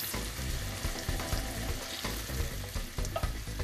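Onions for a Turkish zeytinyağlı dish caramelize in a pan and crackle with a dense, busy sizzle. Stirring clatters and scrapes come through as irregular knocks, close and steady, with no one speaking.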